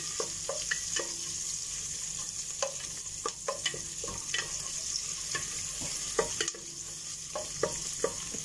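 Onion and garlic sauté in oil for beef asado, a continuous close sizzle punctuated by regular scrapes and taps of a spatula stirring the pan, with no voices.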